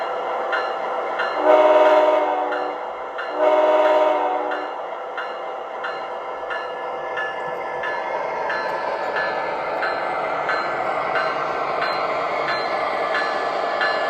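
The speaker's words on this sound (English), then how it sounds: "We'll be running the Floridian, along with all of my other Amtrak Genesis locomotives." Model train with Amtrak Genesis locomotives, two loud close horn blasts followed by a steady running rumble with faint rhythmic clicking of wheels on track.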